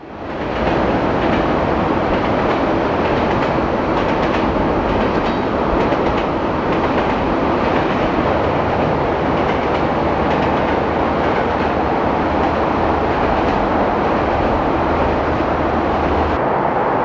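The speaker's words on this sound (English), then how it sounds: "The long train rolls past Bridal Veil siding behind us" A long Union Pacific freight train rolls steadily past Bridal Veil siding, a loud continuous rumble with rhythmic wheel clatter close by, running for the whole stretch without pause.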